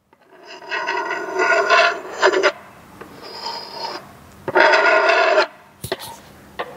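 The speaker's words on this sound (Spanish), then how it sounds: "voy a poner esta parte de las orejas aquí en el micrófono, quieto parado, y voy a rozar la madera" Wood being rubbed in a workshop, picked up through an ear-protector cup pressed against the microphone: three close, raspy scraping strokes of a few seconds each, the last one loudest, followed by a couple of short knocks and no speech.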